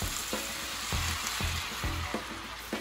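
Tapioca noodles fry in a hot wok after a splash of water, a loud dense hiss with regular scraping strokes of stirring, no speech.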